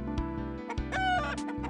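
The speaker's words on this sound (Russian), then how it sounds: "Кукарекают. Это, видимо, новый вид петухов." Roosters in the video game Toilet in Wonderland cluck and crow in rhythmic repeated bursts over a steady looping game soundtrack, close and fairly loud.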